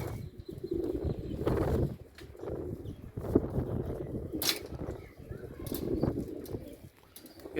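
Pigeons cooing in a loft, soft repeated low coos and rustling at close range, with bursts of flapping and scattered noise between them and no clear talking.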